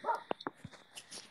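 A dog on a Dutch arable farm gives a few short, separate barks and yips of moderate loudness, with quieter whimpering sounds in between.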